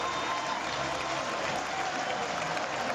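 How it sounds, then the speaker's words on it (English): A large crowd at a velodrome finish of Paris-Roubaix 2009 cheers and applauds steadily as a cyclist enters, a dense continuous roar of clapping heard from a distance. "Round he goes, a huge cheer goes up here."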